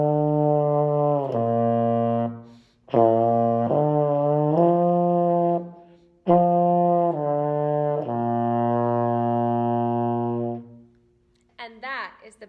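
A baritone or euphonium played up close, a slow melody of warm, round sustained notes in phrases with short breath pauses, ending in a brief spoken voice.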